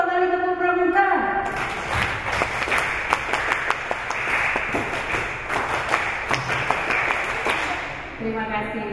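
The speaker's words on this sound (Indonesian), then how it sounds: "2 kali tepuk pramuka" Indonesian workshop audience performs the rhythmic scout clap (tepuk pramuka), a run of sharp, patterned group claps filling the room for several seconds, with voices and chatter mixed in before and after.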